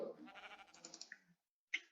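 A Minecraft sheep gives a short wavering bleat, followed by a brief click-like game sound, clear and alone against silence.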